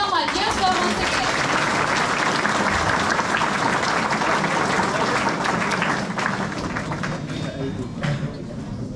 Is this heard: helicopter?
no